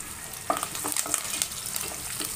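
Chana dal fries in a pan with oil for vegetable upma, giving a steady close sizzle broken by a few sharp stirring scrapes and crackles.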